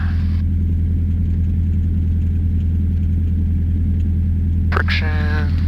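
A small airplane's engine idles at 1200 rpm before a night flight, a loud, steady, close droning hum throughout, with a brief radio-like voice near the end.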